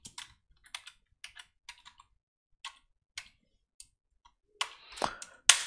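Code typed on a computer keyboard, close and clear: scattered bursts of crisp key clicks with short pauses, ending in a busier flurry of taps and a louder clack.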